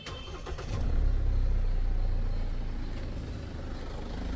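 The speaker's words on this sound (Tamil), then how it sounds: "இன்ஜின் நாய்ஸ் மட்டும்தான் கேட்குது, எக்ஸ்ட்ரா எந்த சவுண்டுமே கேட்கல." A Mahindra Thar engine, just fitted with a new belt, starts and settles into a steady running rumble, close and moderately loud with no voices.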